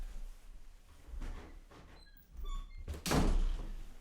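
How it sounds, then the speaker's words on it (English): A door is pushed shut indoors, a soft shuffle and slide ending in a single firm thunk with a brief rattle, near and moderately loud, no one speaking. "Let me close this door."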